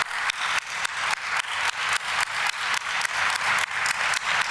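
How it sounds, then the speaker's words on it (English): An audience applauds to welcome a speaker onto a stage, steady clapping with a regular pulsing rhythm, moderately loud and filling the room with no talk over it. "I would like to ask you to express this with a great round of applause"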